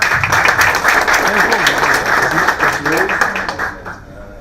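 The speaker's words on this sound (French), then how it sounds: "Donc sous vos applaudissements" Audience applause at a startup awards ceremony, a dense wash of clapping under a speaking voice, fading out toward the end.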